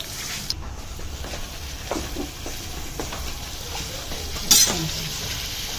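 Paratha flatbread fries in a pan during a rooftop barbecue party at a village home, a low steady sizzle broken by occasional scrapes and a sharp metallic clink of utensils.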